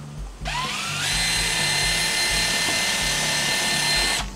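A power drill boring a hole for a bolt through a handle for a boat anchor reel, starting abruptly and whining at a steady high pitch for several seconds before stopping, loud and close.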